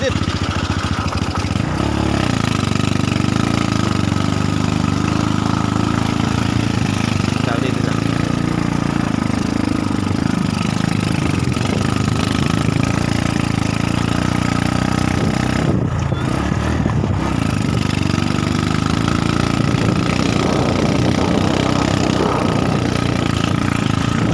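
A motorcycle engine idles loudly and continuously up close, a steady throbbing rumble with slight fluctuations, voices faintly mixed in.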